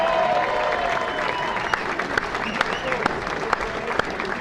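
Audience applause and cheering at a sports hall of fame banquet for an honoree named Kathy Killian, a steady dense clapping wash with sharper individual claps and whoops standing out, close and sustained throughout.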